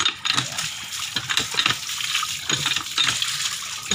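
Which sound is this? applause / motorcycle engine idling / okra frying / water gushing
water gushing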